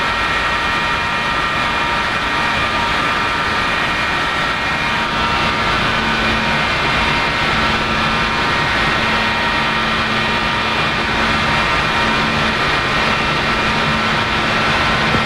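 A McDonnell Douglas F-4E's jet engine idles steadily after startup in the DCS flight simulator, a loud continuous roar with a broad hiss and a low hum, unbroken and near for the whole stretch.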